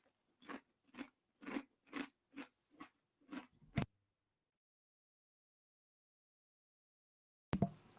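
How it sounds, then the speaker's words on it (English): Crunchy chewing of a chip comes in eight or nine quick separate bites, close and fairly loud, then several seconds of silence before one more crunch. "I'm going to eat a chip."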